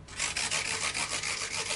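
Sandpaper of 240 grit rubs back and forth over a guitar fretboard during a Fender Stratocaster refret, making rapid, rhythmic, close, gritty scraping strokes with no speech.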